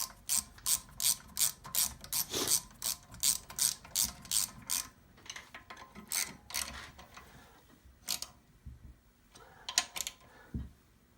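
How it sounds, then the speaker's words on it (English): A hand ratchet tightens the spacer nuts on a carburetor during cleaning and reassembly, a close, crisp run of rapid clicking bursts that comes in quick even strokes and then turns sparser with pauses. "We're going to tighten the nuts down."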